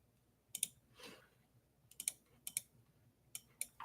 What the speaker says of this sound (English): we're going to double click here